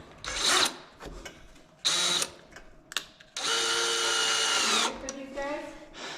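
A power tool loosens a fastener on a Mustang GT350R, whirring in several short close bursts and one longer sustained run, with gaps of quieter workshop noise between.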